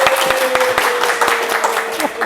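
Audience applause at an Ansor podcast event in Central Java, a dense wash of hand clapping that holds steady and loud throughout, with a faint voice in the background.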